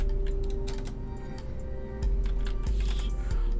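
Computer keyboard typing, a run of quick irregular key clicks over a steady low hum, close and moderately loud, with no voices.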